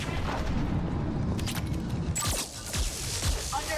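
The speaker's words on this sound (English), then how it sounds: "All those explosions, oh my goodness." Explosions in the Mass Effect 3 video game during a fight aboard a Geth dreadnought: dense, loud, overlapping booms and rumbling blasts with crackling debris, continuing throughout without a break and with no talking.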